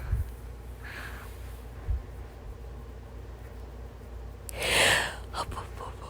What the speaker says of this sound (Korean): 이거 얘 졸리는 게 아니라 아직 잠이 안 깨서 하품하는 거야.